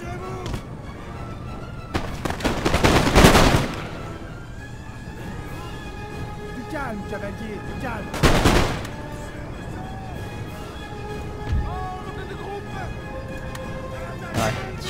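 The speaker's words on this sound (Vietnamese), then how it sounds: "Nạp đạn, chuẩn bị bắn đảo kia." Cannon fire at an island in the game Napoleon: Total War rings out as two heavy booming volleys several seconds apart, loud against battle ambience with steady background music and a talking voice.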